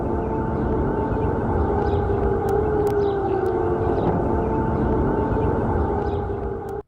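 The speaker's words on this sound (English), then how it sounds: "an air raid siren was going off just before dawn" A loud, sustained air raid siren in Baghdad before dawn wails steadily and without pause, its droning tone filling the air before cutting off abruptly at the end.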